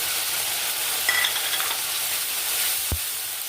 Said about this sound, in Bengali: পেঁয়াজ বাটা একটু ভেজে নেব